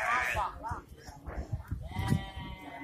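Sheep bleat at a busy animal market in Cilongok, Banyumas, several close calls over crowd chatter and people talking nearby.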